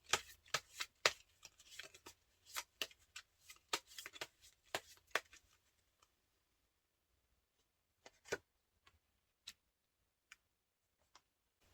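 Tarot cards shuffled by hand in a quiet room: a dense run of crisp riffling and tapping clicks, then sparse single card snaps trailing off, close and fairly soft.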